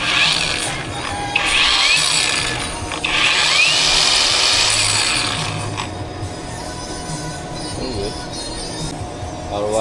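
A fake Makita brushless 5-inch angle grinder runs at its lowest power setting, a steady close whine with some rattling, swelling slightly in the first half and then holding even, with no talk over it.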